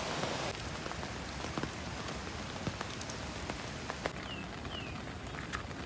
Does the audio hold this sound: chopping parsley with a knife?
no